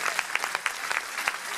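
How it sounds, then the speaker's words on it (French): A brief burst of scattered clapping from a small audience at a judo club gala, individual claps distinct and moderately close, fairly light rather than a full ovation. "on peut les applaudir là tous les athlètes"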